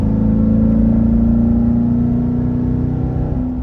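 A C7 Corvette Z51 with its LT1 V8 pulls hard under acceleration on a winding mountain parkway, a loud, steady engine drone heard from inside the cabin with no talking.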